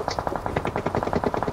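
Rapid automatic gunfire from the battle royale video game BGMI, a loud, continuous stream of evenly spaced shots filling the whole moment with no talking.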